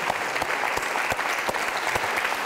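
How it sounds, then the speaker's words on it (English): An audience at a Center for Free Enterprise event applauds the musicians, a loud, continuous burst of many hands clapping with sharper individual claps standing out. "that's one more round of applause for our musicians"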